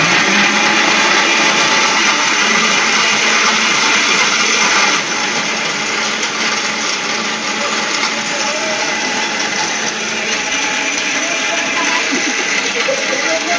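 A mixer grinder runs continuously with a loud, steady high-pitched whir, its tone dropping slightly partway through as voices talk faintly under it.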